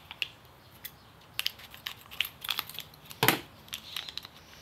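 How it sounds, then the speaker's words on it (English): Plastic packaging for a Pololu electronics chip is torn and crinkled open by hand on a workbench: scattered crackles and rips build to one loud tearing burst near the end, close and alone. "let's go ahead and rip into this packaging here"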